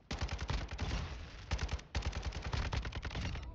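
Rapid bursts of gunfire in Modern Warfare 2 multiplayer Hardpoint on Farm 18, loud and close, with dense volleys broken by short pauses and no talking.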